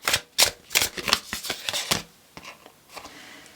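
Tarot cards are shuffled and drawn in a rapid run of crisp riffling snaps, about nine close sharp bursts, then a few softer slides and taps as the cards settle.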